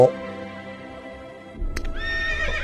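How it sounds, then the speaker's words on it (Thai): A horse whinnies near the start of a moment in the video game Devil Athena: Dark Olympus, a single clear neigh followed by a brief burst of other game sound effects and a soft rising tone. "เรียกม้าไปเรียกม้ามา"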